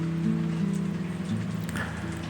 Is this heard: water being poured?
no